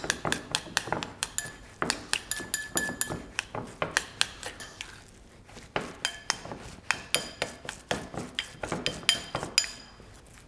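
A spoon works mushroom ravioli filling with fresh nutmeg and herbs into a paste, making loud, rhythmic clinks and scrapes against a bowl that repeat steadily throughout, close up and without speech.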